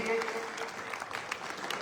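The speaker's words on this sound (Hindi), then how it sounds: "अच्छी ताली बजा करके आप स्वागत" Crowd clapping at a night religious gathering for a swami's nirvana festival, a short burst of applause under ongoing speech and background hum.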